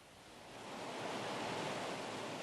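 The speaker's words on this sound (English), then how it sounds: "It's an early flood tide on the Thames." Tidal water on the River Thames during an early flood tide produces a broad, steady wash of rushing water that swells slightly and then holds level, with no voices.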